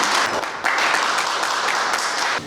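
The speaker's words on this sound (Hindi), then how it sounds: "जोरदार तालियों से स्वागत करता हूँ" Audience applause at an industrial convention welcomes a company CEO, a dense, steady clatter of many hands clapping close by, dipping briefly at moments before swelling again.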